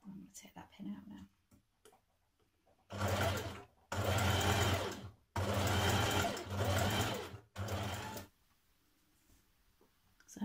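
A domestic sewing machine sews a zigzag stitch through sweatshirt fabric in four loud, rapid bursts of whirring stitching separated by short pauses, with quiet handling sounds before.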